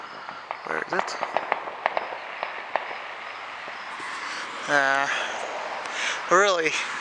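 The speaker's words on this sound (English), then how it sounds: "I can see a firework, that'd be great." Fireworks crackle and pop in a rapid scattered burst early on, followed by distant booms, outdoors on the Fourth of July while people talk and a bird chirps nearby.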